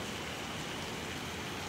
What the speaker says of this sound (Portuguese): Nossa, eu amo esse tempo de chuva.